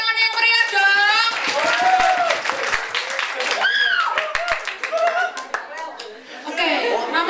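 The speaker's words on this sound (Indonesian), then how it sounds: "Ayo kasih tepuk tangan yang meriah dong." Lively clapping from a school audience at a student council election for a candidate, steady crowd applause mixed with children's shouts and cheering voices throughout.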